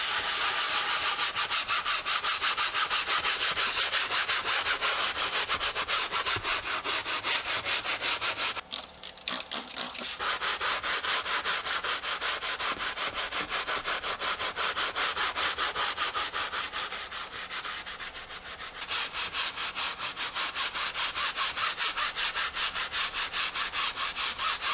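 A brush scrubs foamy cleaner into the fabric seats of a filthy work van, making a continuous rapid scratchy rasp close by, with two brief pauses and no talking.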